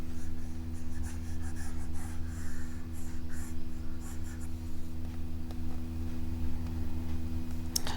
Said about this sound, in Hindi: चलिए इसको मिटा करके मैं फिर से लिखता हूँ